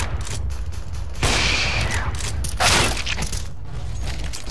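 Dense, sustained gunfire and explosive bursts in the video game Counter-Strike: Global Offensive, with a machine gun firing amid a continuous noisy barrage and no talk.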